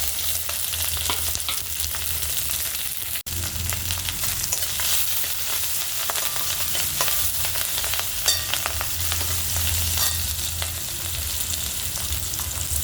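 Asafoetida, garlic and green chili fry in hot oil in a home kitchen, giving a loud, steady close sizzle with occasional stirring scrapes and no voices.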